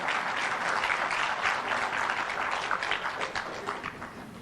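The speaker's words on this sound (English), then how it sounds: "another big round of applause for Justice Remi Kasule" A crowd applauding warmly and steadily at a Uganda Law Society launch event, dense clapping that tapers slightly toward the end, with no speech.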